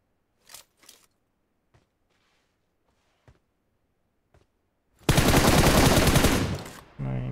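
Gunfire in the mobile battle royale PUBG Mobile: a few faint, scattered single shots and clicks, then a loud, sustained burst of automatic fire lasting about two seconds, followed by another loud sound.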